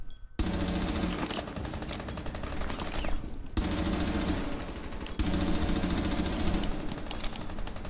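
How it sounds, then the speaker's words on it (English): Rapid automatic gunfire from the video game Rainbow Six Siege rattles in long continuous bursts with brief gaps, loud and close throughout. "Let me shoot a bullet."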